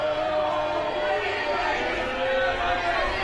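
Crowd at a women's premier division football grand final at Blacktown, Sydney Uni supporters voicing discontent: a steady, dense murmur of many voices with a continuous, unbroken wash of spectator noise.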